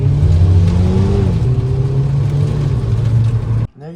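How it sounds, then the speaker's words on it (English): Volkswagen Jetta GLI driving with its engine revving loudly and steadily, pitch rising then settling, before cutting off abruptly near the end. "I do enjoy driving this car"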